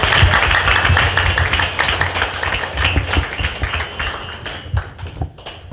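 An audience at a book concert and publication celebration applauds as an association president is welcomed to speak, loud dense clapping that gradually thins out and fades toward the end.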